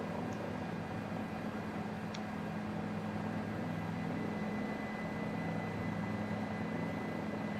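Helicopter engine in a flight simulator game, a steady droning whine and rotor hum holding at an even level throughout, with no talk over it.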